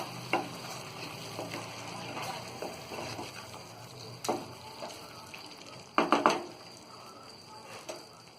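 A spoon stirs palak paneer, a spinach and cottage cheese gravy, in a pan, giving soft scraping and a few sharp clinks against the metal over a faint sizzle, quiet and close.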